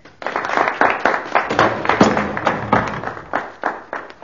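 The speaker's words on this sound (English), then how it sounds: "Applause for the Russian hero" A small group applauding in a hall, steady clapping with a slight rhythmic pulse, fairly close and fading toward the end.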